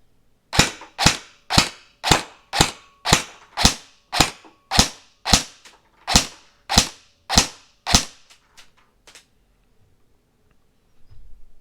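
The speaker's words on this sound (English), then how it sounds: "Okay, testing in semi with the amp Airsoft Maple" An airsoft gun fired on semi-auto with a Maple Airsoft high-speed replacement magazine spring gives about fourteen crisp, evenly spaced snapping shots roughly every half second, then a few fainter clicks before falling silent.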